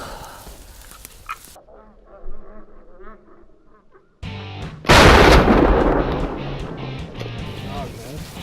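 A shotgun blast during a Merriam's turkey hunt booms loudly and is followed by a long, noisy rumble, after earlier gobbling calls and quiet murmuring voices.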